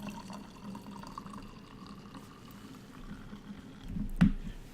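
Franzia White Zinfandel trickles from a boxed-wine spigot into a glass as a quiet, thin pour, ending in a brief louder splash near the end.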